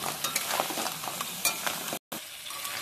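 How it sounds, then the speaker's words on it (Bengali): Crab pieces frying in oil with turmeric and salt, a steady close sizzle with scraping stir strokes and one brief cut to silence partway through. "প্রথম আমি কাঁকড়াগুলো ভেজে নেব"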